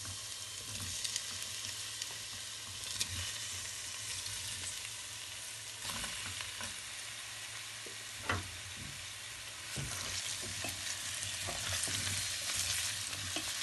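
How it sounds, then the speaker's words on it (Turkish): Carrots and potatoes sizzle and sputter in a hot pot over low heat, a steady frying hiss with occasional sharp crackles and pops, close and fairly quiet, no voices. "Bir iki dakika kavuruyorum."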